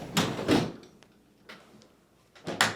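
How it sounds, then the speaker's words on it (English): A couple of quick rattling scrapes of a Samsung dishwasher's dish rack sliding in, then a thud of the dishwasher door shutting, with quiet gaps between. "push the dish rack back into the dishwasher and close the door"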